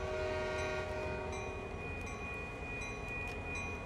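Freight locomotives in a lash-up run in Train Sim World 2020 on the Oakville Subdivision, giving a steady, loud diesel rumble with a sustained horn-like tone and faint rail noise throughout.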